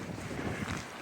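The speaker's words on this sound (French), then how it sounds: "Il y a énormément de vent." Strong outdoor wind roars and buffets the microphone in a dense, rumbling rush that stays steady and loud throughout, with no voices.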